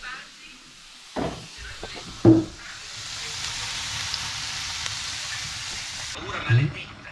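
Pasta and potatoes cooking in a pan inside a camper van give a steady, faint sizzle and hiss all through, with a few soft clatters and brief voices breaking in near the start and near the end.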